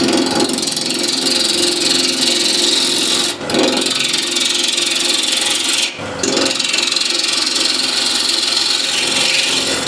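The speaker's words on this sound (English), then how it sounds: "So to true everything up first, I'm going to use a spindle gouge" Wood being turned on a lathe at 1300 RPM with a spindle gouge to true the blank, giving a loud, steady rasping cut that briefly breaks off twice before resuming.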